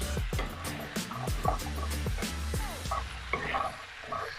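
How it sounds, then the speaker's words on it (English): A wooden spoon stirs ingredients around a pan for Italian pasta, giving repeated scraping knocks and soft clatter over a light sizzle, close and steady. "I'm gonna mix them together"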